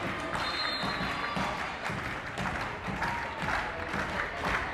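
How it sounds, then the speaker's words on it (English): Crowd applauding and cheering at a girls' high school volleyball game in a gym, a dense, steady wash of clapping and voices that holds loud and constant throughout. "The crowd getting into it"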